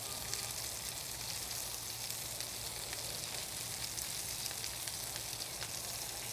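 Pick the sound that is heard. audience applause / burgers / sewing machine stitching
burgers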